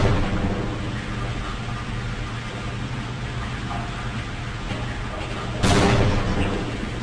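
Grenade explosions in the game Half-Life, in the Unforeseen Consequences map: a dense, rumbling roar runs throughout, then a sharp, louder blast bursts out near the end and fades back into the low rumble.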